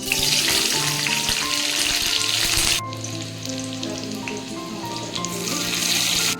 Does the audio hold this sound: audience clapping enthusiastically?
no